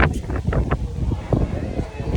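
Strong wind buffets a misty hilltop at Kodikuthimala, a rough, roaring rush that hits the microphone continuously while a person talks over it.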